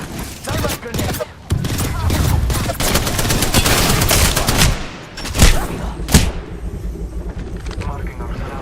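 Rapid gunfire bursts and explosions from the video game Apex Legends, dense and continuous with sharp louder shots near the end, overlaid with in-game voice callouts.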